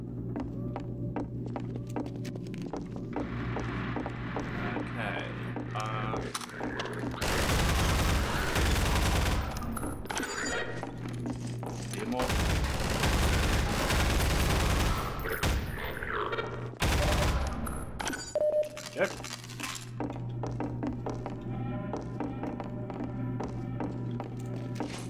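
Gunfire in the video game Half-Life 2 comes in several heavy bursts of rapid automatic shooting, loud and dense, separated by quieter stretches of steady game ambience and small taps.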